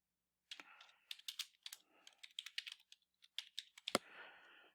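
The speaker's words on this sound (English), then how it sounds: "so we're just going to go up here and type that in." Keys clatter on a computer keyboard while a pay stub spreadsheet is filled in, quick irregular bursts of clicks with brief pauses, close and clear, no talking.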